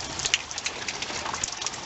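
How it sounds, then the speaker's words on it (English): Heavy rain falls outside, heard near the back of a garage as a dense, steady hiss of drops with scattered sharper patters on surfaces. No one speaks. "It's been raining non-stop before I woke up even."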